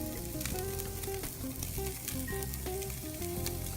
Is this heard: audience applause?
no